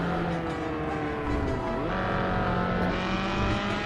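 A car engine drones continuously in a racing sim video game, loud and close, with pitch rising and dropping as it shifts through gears on a six-speed manual shifter, and no talk over it.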